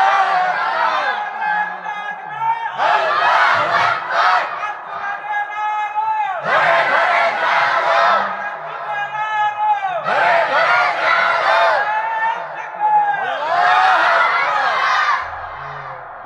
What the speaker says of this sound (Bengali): দাও একটা তাকবীর দাও।